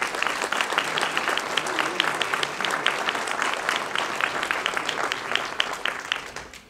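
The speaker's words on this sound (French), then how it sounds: "Je crois qu'on peut l'applaudir, Joël." An audience at a town mayor's New Year greetings ceremony applauds a departing football club president, a sustained, even patter of many hands clapping at moderate volume, tapering slightly at the end.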